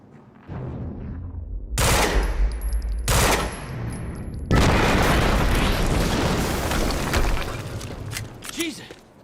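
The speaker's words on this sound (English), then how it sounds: "we just heard an explosion near the harvesting perimeter" Gunfire and a heavy explosion from the video game Quantum Break: loud bursts of shots, then a big sustained blast with rumbling debris that tapers off at the end.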